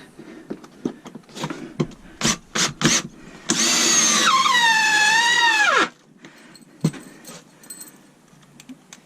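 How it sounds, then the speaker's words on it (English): A power drill whines steadily for a couple of seconds, driving a brace into wooden studs of a pit blind, rising then dropping as it winds down, surrounded by scattered knocks and clatter. "Just drill it into the, what you call it? What? To the studs."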